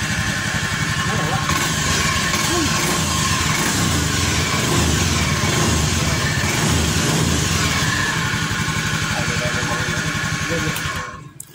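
Honda Beat FI scooter engine idling steadily up close for several seconds, a continuous putter with slight rev variations, before cutting off abruptly at the end.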